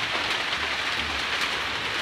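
Heavy rain pours down during an unseasonal storm, a dense, even hiss of drops drumming on surfaces close by, steady throughout with no voices.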